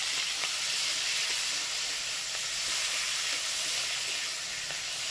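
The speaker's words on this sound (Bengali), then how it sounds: "এটা একটু ভেজে নিই, টমেটোটা একটু ভেজে নিয়েছি।" Tomato and slit green chillies fry in a pan with a steady, bright sizzle and hiss that runs throughout. The frying is fairly close, with small pops scattered through it and no voices.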